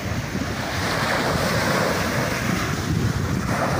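Waves wash steadily against the shore of a lake on the Congo border, a broad continuous roar heavily mixed with wind buffeting the microphone, with no voices.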